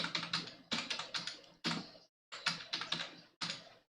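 Numbers are typed on a computer keyboard in short, quick bursts of crisp key clicks with brief pauses between them, close and clear with no talking.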